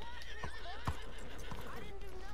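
A horse in the Red Dead Redemption 2 video game gives a short whinny amid game ambience, with hoof clip-clops and voices mixed underneath.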